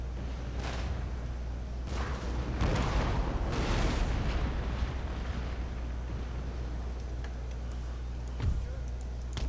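Regiment of soldiers firing a musket volley in a video game, a ragged burst of several overlapping gunshots around the third and fourth seconds over steady battlefield noise, with another sharp crack near the end.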